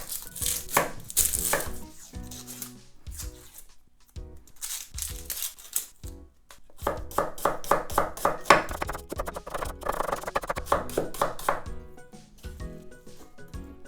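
A knife chops a regular onion on a cutting board while kimchi is being made at home: rapid, crisp, close-up blade strikes in bursts, with short pauses between runs and a long steady rhythmic stretch near the end.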